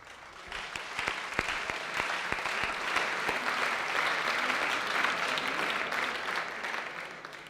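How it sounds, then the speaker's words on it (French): Applause from an audience at a French indoor championship podium ceremony, steady sustained clapping over several seconds with a few sharper claps early on, fairly distant in a large hall. "je voudrais qu'on l'applaudisse aussi"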